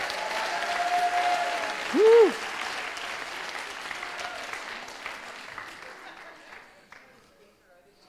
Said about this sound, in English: just give Jesus a big hand clap